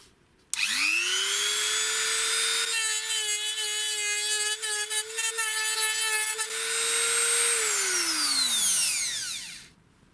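DrillPro die grinder fitted with a pink stone, spinning up with a high whine and then grinding against a metal forging in rough, scraping passes before spinning down, loud and close.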